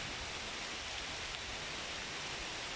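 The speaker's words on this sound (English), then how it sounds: "And here comes the rain." Steady, soft broadband hiss of rain beginning to fall over an outdoor football pitch, an even wash with no distinct drops or voices.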